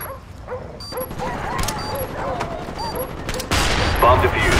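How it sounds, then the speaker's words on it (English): Distant gunfire crackles through a Black Ops multiplayer match, with scattered shots and a burst of automatic fire over busy game ambience, alongside chirping sounds like a dog yipping; a louder burst of shooting swells near the end. "Enemy fire."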